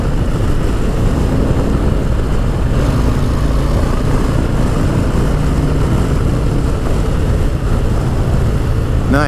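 Harley-Davidson Low Rider S motorcycle pulling hard in fourth gear near 75 mph, a loud continuous engine drone mixed with heavy wind rush, steady throughout with no talking.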